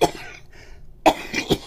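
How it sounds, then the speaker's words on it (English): A person with a seasonal chest cold coughs close to the microphone: one sharp cough at the start, then after a quiet gap two more quick coughs, the second forceful. "if I am coughing, it is my body trying to remove the garbage from my chest"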